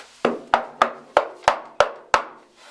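Seven sharp knocks on a bare, hollow car body panel of a Foxbody Mustang, evenly spaced and close, each ringing briefly before the next.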